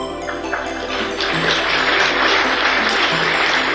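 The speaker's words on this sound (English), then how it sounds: "Thank you, brave applauders." Audience applause, a sustained wash of clapping hands, loud and close, building slightly and continuing steadily without speech.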